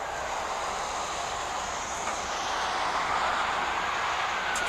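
A container train rolling past in Canada in icy weather, a steady sustained rumble and hiss of wagons moving along the rails at moderate distance, unbroken for several seconds.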